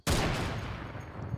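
Gunfire in a video game, a single dense burst that cuts in sharply and holds loud and steady for over a second with no one talking.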